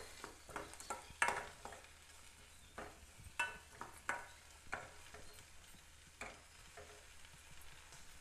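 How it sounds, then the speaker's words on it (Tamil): Chili powder frying in hot oil for manathakkali kai vatha kulambu while a spoon stirs, a steady soft sizzle broken by repeated scraping stir strokes against the pan, close and alone. "எண்ணெயிலே அந்த மிளகாத்தூள் ஃப்ரை ஆகும்போது நல்லா வாசனையாக இருக்கும்."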